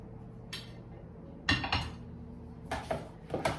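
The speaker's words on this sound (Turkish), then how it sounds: "Şimdi önce salatamı karıştırıyorum" A pasta salad is stirred in a bowl, heard as a few quiet scattered clinks and scrapes of a utensil against the dish with short pauses between them.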